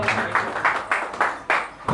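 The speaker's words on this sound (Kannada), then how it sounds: "ಒಂದು ಜೋರದ ಚಪ್ಪಾಳೆ ಮುಖಾಂತರ ಅವರಿಗೆ ಸ್ವಾಗತವನ್ನು ತೋರಿಸಿದ್ದಾರೆ" A crowd applauds loudly to welcome guests at a karaoke singing and award ceremony in an arts academy hall, with rhythmic bursts of clapping repeating in quick succession.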